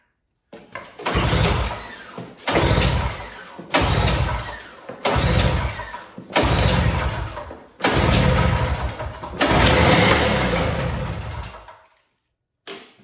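A snowblower engine with the choke fully on is started by pulling the starter cord. About six loud, close bursts of engine sputter are separated by short silences, and the last run lasts longer before cutting out.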